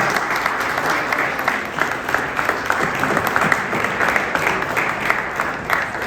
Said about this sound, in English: That deserves a huge round of applause. Let's give them a round of applause.